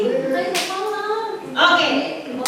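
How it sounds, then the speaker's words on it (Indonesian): A classroom of children clap hands during a Christian lesson, a few short bursts of clapping rising under ongoing talk. "Oke, tepuk tangan."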